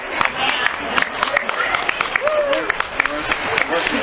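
Onlookers at a street hypnosis show clap in quick, uneven bursts around a performer, with someone talking over the claps and crowd noise behind.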